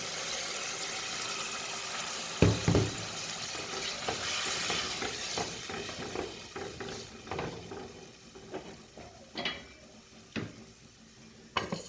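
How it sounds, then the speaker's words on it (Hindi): A cup of water is poured into fried peas in a hot pan, bringing a hissing burst of sizzle among steady frying, with sharp clanks and scrapes of a utensil against the pan. "अब इसमें डाल देंगे 1 कप पानी"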